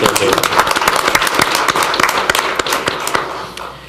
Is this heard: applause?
yes